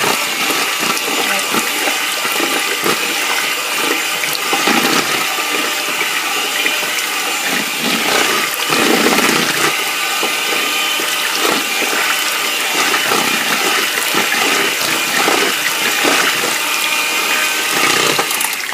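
Ingredients for coconut flan are mixed with a continuous loud whirring, rushing churn that stays steady from start to finish, close by and with no speech.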